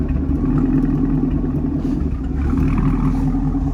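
A 2017 Chevrolet Camaro 2SS idling with a deep, steady V8 rumble, loud and close, holding an even low drone throughout.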